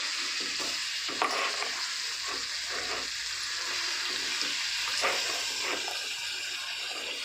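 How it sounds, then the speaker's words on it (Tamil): Boneless chicken, about a kilogram, sizzles and fries in a pan, a continuous loud hiss broken by regular scraping stirs of a spoon, with no voices. "ஸோ இப்போது இதில் நான் 1 kg சிக்கனை ஆட் பண்ண போகிறேன்."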